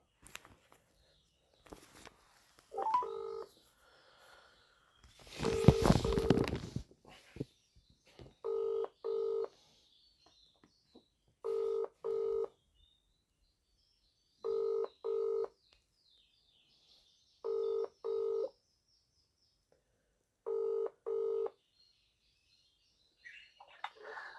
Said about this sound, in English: ringing up Bradford Council Solicitor Graeme Kenna.